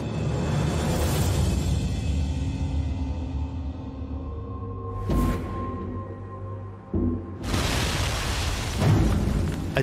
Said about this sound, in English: A deafening explosion.